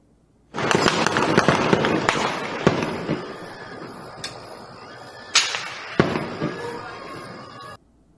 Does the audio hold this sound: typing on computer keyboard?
no